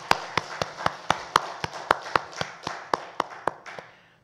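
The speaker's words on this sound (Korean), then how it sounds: "우리 박수로 축하합니다" A church congregation claps in a slow, even rhythm, about a dozen crisp claps that fade toward the end.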